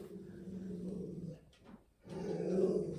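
A dog growls in a low rumbling stretch close by, breaking off briefly before resuming louder.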